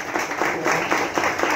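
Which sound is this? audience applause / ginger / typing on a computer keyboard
audience applause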